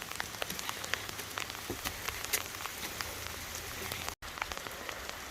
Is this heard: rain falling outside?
yes